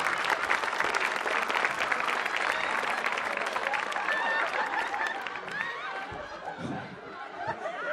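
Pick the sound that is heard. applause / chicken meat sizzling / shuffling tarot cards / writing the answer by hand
applause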